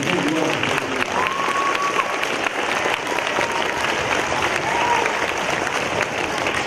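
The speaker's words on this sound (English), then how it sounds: "Now please give him a round of applause and welcome him to the speaker." An audience at a Veterans Day school assembly applauds with sustained, even clapping that stays loud throughout. A few faint tonal sounds, like whistles or squeaks, rise above it.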